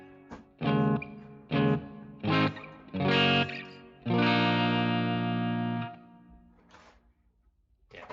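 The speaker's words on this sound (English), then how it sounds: "A plate reverb is like a giant plate thing, but it sounds like a space" Distorted electric guitar through a plate reverb effect on an HX Stomp plays a few choppy chords and then a long sustained one, each trailing into a wide, shimmering reverb tail.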